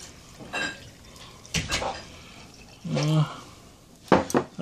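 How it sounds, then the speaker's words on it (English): Water poured into a glass holding drink powder, with short splashing and clinking bursts of the glass between pauses, close and fairly loud; a voice is faintly present. "let's get some water in there."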